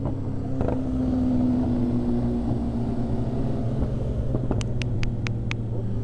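A BMW S1000RR motorcycle engine drones steadily close by, with a low rumbling hum and a brief rising pitch early on, then a few sharp high-pitched ticks near the end.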